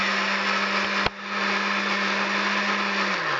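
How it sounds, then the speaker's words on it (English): A blender whirs steadily while mixing homemade mayonnaise, a loud constant motor whine with one brief knock partway through, then the pitch drops as it winds down. "Blend it up good. The blender's going on."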